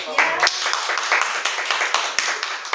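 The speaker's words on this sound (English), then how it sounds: "Do you think I deserve a round of applause," A small audience claps in a brief, uneven round of applause, individual hand claps distinct and close, mixed with a few voices at the end of a session.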